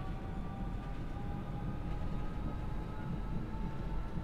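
A Class 465 Networker electric train in Train Sim World 2 starts pulling away inside Strood Tunnel, giving a steady enclosed rumble with a faint rising motor whine and no talking.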